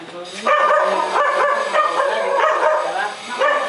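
A dog barks and yips repeatedly in an irregular rhythm, moderately loud and close, with voices mixed underneath.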